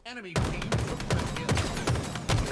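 Rapid gunfire in a Halo championship match, a string of sharp evenly spaced shots cracking one after another at close range over continuous background noise.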